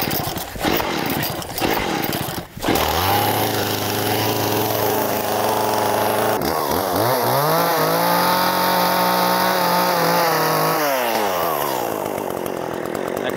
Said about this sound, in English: There's only one way to cut meat like this. It's with the chainsaw